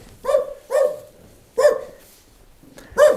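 A dog barks loudly and close by, five sharp barks in an uneven rhythm, outdoors while choosing a Christmas tree.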